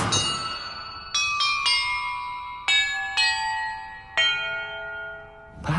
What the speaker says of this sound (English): the order I'm supposed to ring the bells in